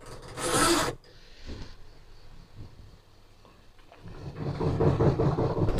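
Fabric being cut out for a straight milkmaid bustier with a bask: a loud, close rasping burst near the start, a quieter stretch, then a longer run of scratchy cutting and rubbing noise, with no talking.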